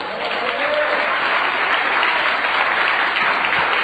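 A church congregation applauds loudly and steadily, a dense, continuous wash of many hands clapping together throughout.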